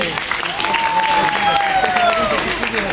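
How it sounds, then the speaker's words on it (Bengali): An audience claps in a dense burst of applause, with a thin whistling tone rising over it. "আমি আমার হাজব্যান্ডের জন্য আপনাদের প্রত্যেকের কাছে একটা করতালি চাচ্ছি।"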